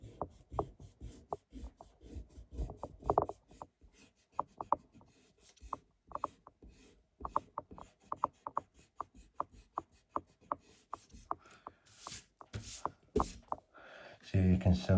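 A pencil eraser scrubs construction lines off paper during isometric drawing practice, quick rhythmic rubbing strokes close by in uneven bursts, with a person talking at times.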